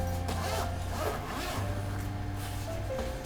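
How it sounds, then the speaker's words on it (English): Zipper on the top of a traveling case being unzipped, a close raspy pulling sound in a few strokes over a low steady background hum. "Unzip the top."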